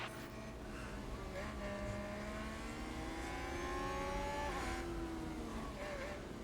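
Formula One cars jostle and overtake through the streets of Monaco in F1 Manager 2022, a steady layered engine whine with rising and falling pitch as several cars pass, heard beneath ongoing commentary.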